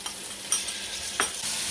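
Roughly chopped medium tomatoes hit a hot pan of dal masala with turmeric and get stirred, a bright sizzle broken by scraping spoon strokes, with no talking.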